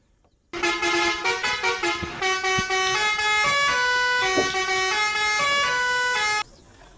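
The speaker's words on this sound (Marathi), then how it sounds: "भाईच्या गाडीमध्ये हॉर्न पण एवढे जबरदस्त आहेत" A modified Kerala-style car sounds a loud, multi-tone musical horn, held almost continuously for about six seconds with shifting pitches, close by and with no other sound.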